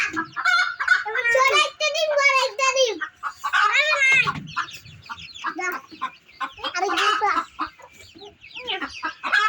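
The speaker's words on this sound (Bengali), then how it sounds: "মুরগি মুরগি এটা এই কারণে না চিল্লা চিল্লি করতেছে" A hen clucks loudly and squawks in agitated bursts near a nest of eggs, the cackling calls breaking out repeatedly while children talk around it.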